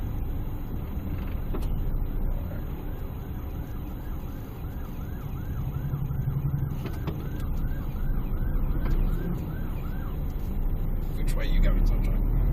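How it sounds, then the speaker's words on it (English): An ambulance siren wails in steady repeating sweeps from behind a car driving through traffic at roundabouts, clear over engine and road rumble, with people talking in the vehicle. "It's behind me, it's an ambulance."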